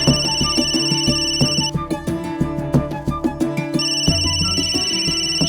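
A phone ringtone plays a bright, repeating electronic melody, loud and close, looping over several seconds with no voices.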